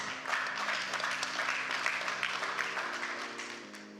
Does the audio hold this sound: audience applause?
yes